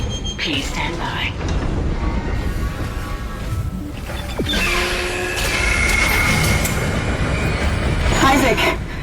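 In the Dead Space video game, a replacement tram car rolls along its tracks with a heavy mechanical rumble, metallic screeches and clanks that build toward the end, while a voice speaks over it.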